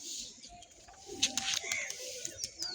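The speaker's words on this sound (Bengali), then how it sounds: "তো বন্ধুরা পায়রারা এসেছে দেখতে পাচ্ছ।" Pigeons coo close by outdoors, soft low murmurs mixed with brief chirps and a few sharp knocks over faint background bird calls.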